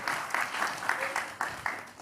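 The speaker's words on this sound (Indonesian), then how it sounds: "Kita berikan tepuk tangan dulu" An audience at a political talk event claps together in a brief, rhythmic burst, with the claps coming in regular pulses.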